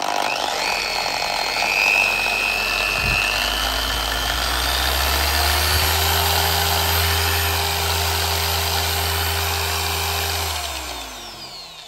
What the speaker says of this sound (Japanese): 純正パッドでもスイッチ入れてみましょう。